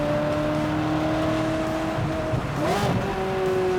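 A Ferrari 360 with a gated manual gearbox idles and burbles, its engine note sustained and close, with a brief rising blip and crackle partway through before settling back to a steady drone.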